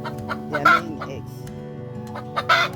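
Laying hens in a home garden cluck and squawk loudly and close by in short repeated bursts, with a pause in the middle before another loud call.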